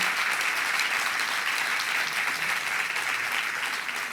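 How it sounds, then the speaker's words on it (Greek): A crowd claps steadily and loudly, dense continuous applause from many hands filling the whole stretch without a break. "ένα ακόμα χειροκρότημα"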